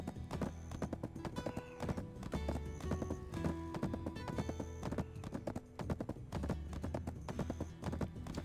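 A horse galloping in Black Desert Online, with steady rhythmic hoofbeats thudding close and clear throughout, mixed with game music and no talking.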